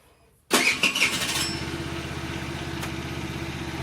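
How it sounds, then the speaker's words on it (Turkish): The engine of a Volta Apec cranks and catches abruptly after a brief silence, then settles into a steady, close, rhythmically pulsing idle. "Motoru çalıştıralım."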